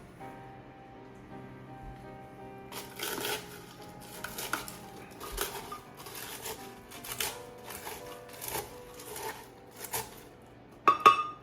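A spoon smacks mole rojo ingredients in a pot, producing a series of irregular clanking knocks after a quiet start, with a louder final hit.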